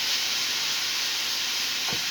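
Moose meat cooking with onions and garlic in a pan, a steady broad hiss of sizzling, close and even, with a brief low knock near the end.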